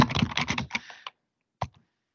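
Rapid computer keyboard typing at a security workshop, a dense run of clicks for about a second, then a short pause and one more brief burst of keystrokes, fairly close.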